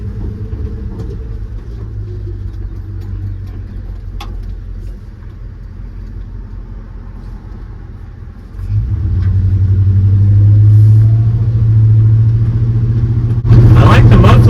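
A low, steady engine rumble from a Ford F100 truck with a swapped Crown Victoria engine on the move, swelling louder partway through as it accelerates, with a burst of noise at the end.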